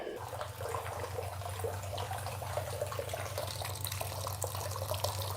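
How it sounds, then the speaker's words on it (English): Water runs steadily through a Flower Gold Wizard cleanup sluice, a close, continuous trickling wash over a low pump-like hum, with no one talking. "run it through my Flower Gold Wizard cleanup sluice"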